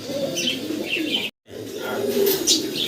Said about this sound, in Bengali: লাক্ষা কবুতর দেখেন বিগ সাইজের